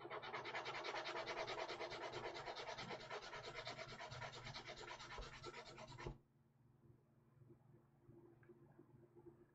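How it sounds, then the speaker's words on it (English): Steady, continuous rasping of a sanding block rubbing back and forth across wood, close and loud, stopping abruptly and leaving quiet room noise. "we're going to grab our sanding block now, and we're just going to flatten out the top"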